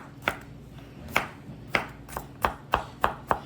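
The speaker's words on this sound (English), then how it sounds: "So you want to get your garlic pieces nice and chopped up" A kitchen knife chops garlic cloves on a cutting board in a series of sharp, close knocks, spaced unevenly at first and then quickening into a steady rhythm.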